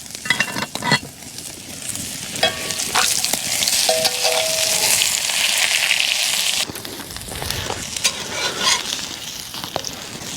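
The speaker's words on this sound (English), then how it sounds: "ribeye's going on. Good sizzle." Ribeye steak sizzles loudly in a hot pan at a winter camp, a dense crackling hiss with occasional clinks and scraping of utensils.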